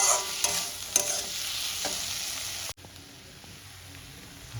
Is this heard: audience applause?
no